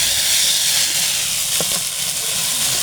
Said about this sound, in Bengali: এখানে মচমচ করে ভাজা হচ্ছে আলুর ভাজা গাইস, দেখুন।